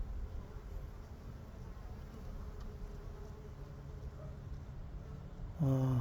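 Native Korean honeybees humming at the entrance of a square wooden hive, carrying pollen in, a steady low buzz with faint outdoor hiss, and a louder, closer buzz swelling in briefly near the end.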